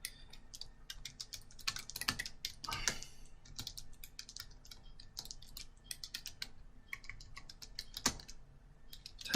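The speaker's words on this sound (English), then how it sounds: "Type in your title." Keys clatter on a computer keyboard as a title is typed, with a fast, uneven run of close, light clicks and taps continuing throughout at a modest level.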